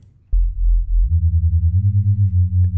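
A pure, deep sine-wave sub-bass synth tone for drum and bass holds steady, then steps up in pitch and pulses in a regular rhythm, loud and clean with no other sounds.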